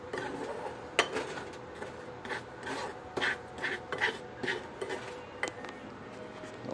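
A spoon scrapes and stirs around a container as melted wax is mixed with smoke bomb chemicals, giving steady rasping strokes with occasional clinks, close and continuous, with no talking.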